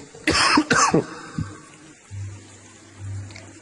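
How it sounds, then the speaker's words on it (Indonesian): Two harsh coughs ring out close by, followed by quieter throat sounds and a low hum. "Lagi batuk."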